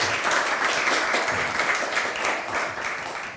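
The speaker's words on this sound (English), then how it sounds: "So please welcome them with a large applause." A conference audience at an energy and climate panel breaks into steady, dense applause that continues evenly throughout, fairly loud and filling the hall.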